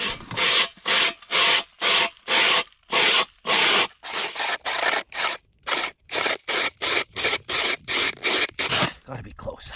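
A Milwaukee power auger bores through lake ice in a rapid series of loud, rasping bursts, each cut short by brief gaps, then stops near the end.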